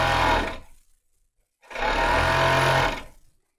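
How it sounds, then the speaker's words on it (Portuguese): An overlock machine finishing the edges of a dress fabric in two short runs, each a close, loud mechanical whir separated by about a second of silence. "Aí eu vou passar overlock no tudo."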